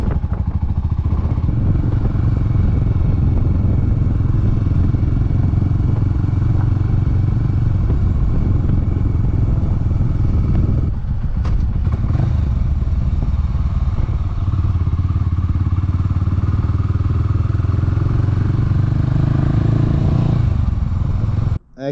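A Honda GB500 single-cylinder motorcycle is ridden around the block on its first ride of the season, its engine droning loud and steady with wind rumble, occasional clatter and a brief dip midway.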